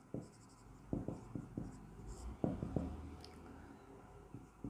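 Chalk or marker writing on a board during a math lesson on angles and clock problems, with short soft taps and strokes in an uneven rhythm, faint and close.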